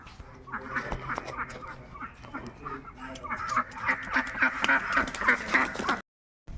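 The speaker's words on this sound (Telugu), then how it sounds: "ఇక్కడ ఉన్నాయి బాతులు ఫ్రెండ్స్" Ducks kept at a function hall quack repeatedly and loudly at close range, several birds overlapping in rapid bursts that grow busier toward the end before the sound cuts off.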